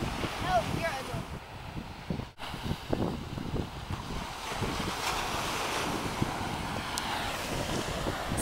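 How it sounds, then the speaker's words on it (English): Gusty wind buffets a camera microphone at a beach, with rumbling surf beneath; loud, rough and continuous, with a brief dropout and scattered voices. "I know the wind is probably making a really weird sound on the camera"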